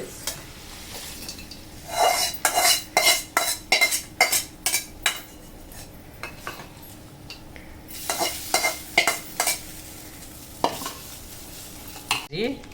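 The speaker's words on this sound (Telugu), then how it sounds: "మన పోపు వేగిపోయింది" Tempering spices sizzle quietly in hot sesame oil while a spoon scrapes the pan in quick rhythmic bursts, pausing midway and then stirring again.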